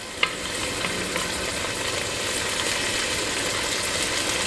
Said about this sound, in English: Oh yeah, starting to sizzle really nice.